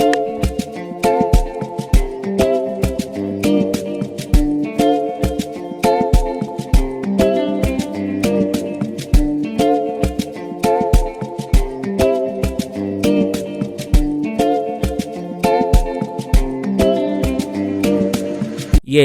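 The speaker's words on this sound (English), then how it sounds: "I'm going to go particularly into the Rhythm Drum Loop Volume 2 and look for a befitting drum loop to this melody" Afrobeats drum loop from Rhythm Drum Loop Volume 2 plays over a guitar melody, with steady, evenly spaced kick and percussion hits repeating throughout at a consistent loud level.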